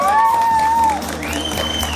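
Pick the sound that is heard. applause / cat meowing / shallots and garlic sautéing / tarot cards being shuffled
applause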